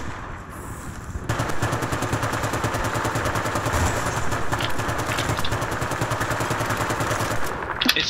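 Sustained rapid machine-gun fire in Battlefield: Bad Company 2, a loud, steady, rattling burst stream that starts after a brief lull and keeps going, with a few sharper shots near the end.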